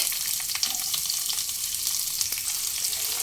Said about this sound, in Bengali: পেঁয়াজ হালকা ভাজা ভাজা হতে দেব